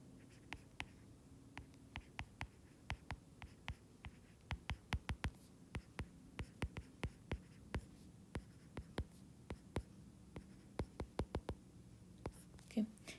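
Pen writing notes for a math lesson, a run of quick, sharp taps and scratches at close range, steady and fairly quiet with soft background hiss.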